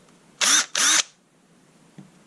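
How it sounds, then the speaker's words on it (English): A power drill with a 10mm bit whirs in two short bursts boring into mild steel, close and loud, separated by a brief pause, followed by a small click. "Here you can see 10mm drill"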